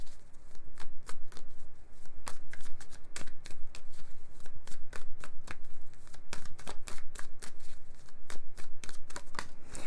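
A deck of oracle cards is shuffled repeatedly up close, giving sharp crisp riffling bursts and flutters in quick rhythmic succession throughout.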